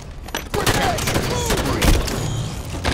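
Dense gunfire from a Halo video game match, with rapid bursts and heavy thuds crowding a busy battle mix that runs for the whole stretch, while a voice and in-game radio chatter sound over it.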